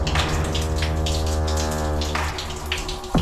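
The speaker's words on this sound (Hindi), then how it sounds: "इसका पानी मंदिर के मुख्य शिवलिंग का जलाभिषेक करते हुए बहता है" Rainwater pours and trickles in a steady stream inside a Shiva temple, running over the main lingam with a constant splashing flow and a sharp drip near the end.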